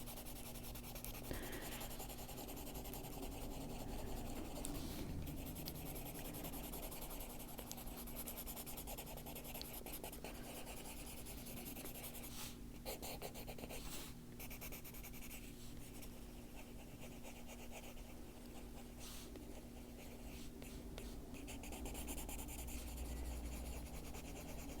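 A colored pencil buffs across paper with steady, soft rubbing and scratching strokes that continue close and even throughout, under a low background hum.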